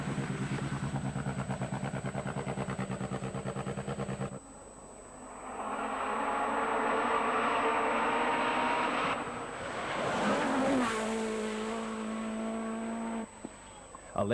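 A Peugeot rally car races through a stage of Rally New Zealand, its engine buzzing loudly and revving up and down through gear changes. The engine noise is steady and close, with a shift in pitch partway through.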